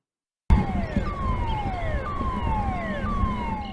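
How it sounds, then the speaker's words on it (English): Sirens wailing at the former Moss Landing power plant during a battery storage fire, several overlapping tones sweeping downward in repeated falling glides, loud and steady after an abrupt start, over a low rumbling background. "The sirens at the former Moss Landing power plant started blaring early Tuesday morning"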